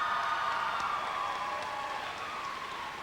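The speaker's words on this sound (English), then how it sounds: "I think we need to give her a round of applause" Audience at a high school graduation ceremony clapping in a steady, dense wash of applause that holds throughout and fades slightly toward the end, with no talking over it.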